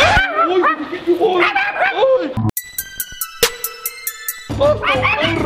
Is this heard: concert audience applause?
no